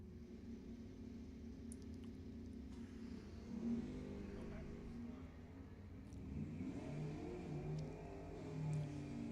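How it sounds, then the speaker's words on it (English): A Camaro and a Mustang drag race at Lebanon Valley Dragway, engines revving and droning from a distance with rising surges, fairly faint under a steady background. "Dave Parker in the Camaro is going to be chasing John Hedenberg's Mustang."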